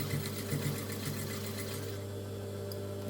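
A sewing machine stitching through many thick layers of upcycled clothing, a close, steady mechanical whir with rapid needle chatter that eases off near the end.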